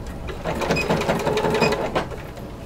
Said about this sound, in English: I'm going to stitch them as I have the other samples at 5/8 of an inch.